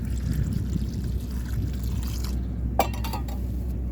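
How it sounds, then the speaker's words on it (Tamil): Water poured into a cooking pot for a snake gourd and chana dal kootu, a light trickle with a brief clink near the end over a steady low background. "தேவையான அளவு தண்ணி சேர்த்துட்டு"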